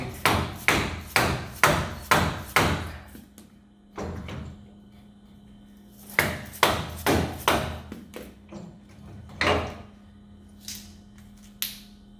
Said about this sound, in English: using a soft hammer, or you could put a piece of block of wood here, we're going to drive the hub